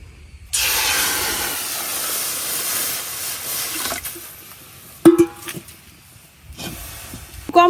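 Water poured into a hot wok for raw tamarind chutney bursts into loud, close hissing steam that fades over a few seconds, followed by a few clinks and softer sputters.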